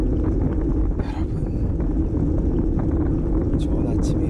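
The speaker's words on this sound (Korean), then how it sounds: "바퀴 굴러가는 그런 소리랑 이런 바람 소리, 백색 소음 이런 거밖에 없을 것 같은데" Steady, loud roaring wind buffeting the microphone during a road bike ride on a park loop in Australia, a constant broadband rush with faint tire hum beneath and brief higher whooshes near the end.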